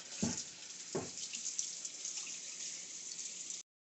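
Tap water runs steadily into a sink as freshly cleaned Rogue River steelhead is rinsed outdoors, a constant close hiss with two brief splashy knocks near the start, stopping abruptly at the end.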